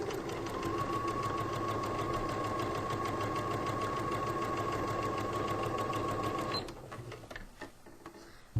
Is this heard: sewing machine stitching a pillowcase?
yes